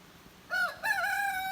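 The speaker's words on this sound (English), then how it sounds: "Oh, those are roosters." A rooster crows out in the Chinese countryside, two short rising calls close together, fairly near and clear against a quiet rural background with no talk.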